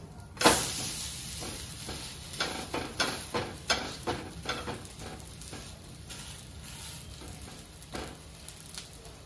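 Bhagar thalipeeth, a millet flatbread for a Mahashivratri fast, roasting in a pan over medium heat, with a steady sizzle broken by a run of sharp, evenly spaced scraping taps from a spoon or spatula, close by and with no voices.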